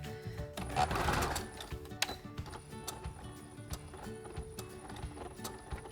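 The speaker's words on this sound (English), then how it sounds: "I'm just gonna do a few stitches and then back stitch real quick to lock that into place." A sewing machine runs a few quick stitches through fabric for a medical mask, then back-stitches, producing a rapid mechanical whir and close, clicky needle taps.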